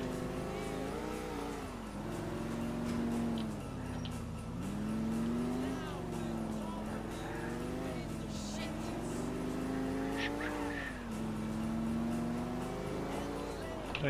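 A car engine droning and shifting pitch as it drives in GTA IV, steady and fairly quiet, rising and falling with acceleration under ongoing talk; no clear tire squeal stands out.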